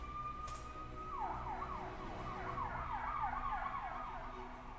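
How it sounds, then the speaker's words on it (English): A wailing emergency siren sounds in a Minecraft game, starting with a steady tone and then sweeping up and down in rapid repeated cycles, fairly faint and heard alone without talk. "Don't know if you heard that, but like fire alarm or ambulance or whatever"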